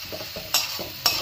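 A spoon stirs banana stem curry with tomato puree in a pan, scraping through a soft, steady sizzle, with two sharper scrapes about half a second apart.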